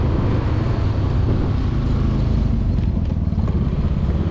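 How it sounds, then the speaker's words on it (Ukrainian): A Honda Dio 110cc fuel-injected scooter engine runs with a steady close-up droning rumble, continuous and even for the whole stretch with no voices. "робота двигунчика, він настільки тихо працює"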